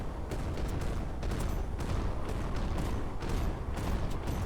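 A SEAL unit firing its gun in Carrier Command 2, a dense rattle of rapid shots over a continuous rumbling mechanical background with no clear pauses.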